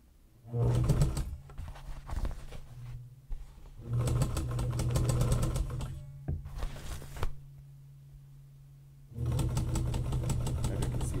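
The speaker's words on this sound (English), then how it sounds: "And we sew almost all the way down." A sewing machine stitching a laptop bag in a workshop, running in several bursts of rapid, even mechanical clatter with a steady hum, separated by short pauses, close and clear.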